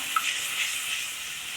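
Tamarind water simmers in a pan with a soft, steady bubbling sizzle, brief and close, with no voices.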